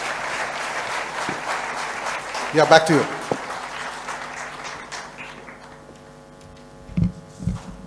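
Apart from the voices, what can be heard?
audience applause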